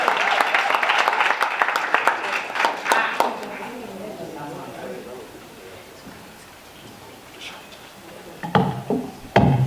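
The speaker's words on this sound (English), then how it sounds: "Let's give her another applause." Audience applause at a youth indaba event in a Durban hotel venue, loud dense clapping at first that thins out, then a few scattered claps and bumps near the end.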